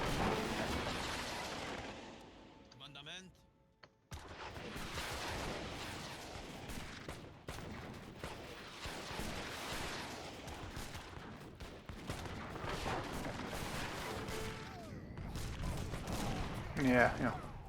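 Volleys of flintlock rockets fire in Age of Empires 3 for the Malta civilization, a dense, continuous barrage of crackling blasts and booms with a few louder bursts near the end, under busy game noise.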